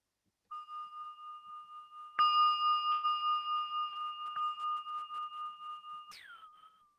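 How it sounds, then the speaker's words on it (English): A singing bowl rung at the opening of a Sunday meditation service, a soft tone swelling after a light strike into a louder, sustained pulsing ring that hums steadily for several seconds before fading. "We now begin our sacred service with the ringing of the bowl."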